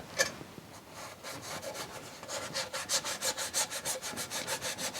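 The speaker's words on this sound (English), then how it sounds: "Just give them a good rub off again." A cloth rubs soot off a surface in quick strokes that start irregular and settle into a steady back-and-forth scrubbing rhythm, close up and fairly loud, with no talking.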